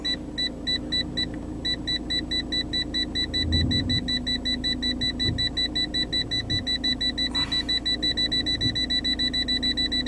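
Rapid, evenly spaced electronic beeps from a Volkswagen parking distance sensor while the car reverses, repeating steadily over a low engine rumble with no talk.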